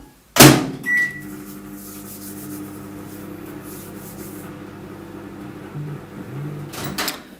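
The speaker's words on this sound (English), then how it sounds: "I'm just going to put it in the microwave a second, Richard." A microwave oven softening hardened blue fondant: a sharp door clunk and a beep, then a steady mechanical hum running for several seconds before a second clunk at the end.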